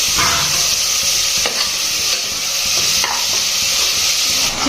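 Chopped tomato frying in oil in a pan for chicken gravy: loud, steady sizzling close by, with light stirring scrapes and no voices.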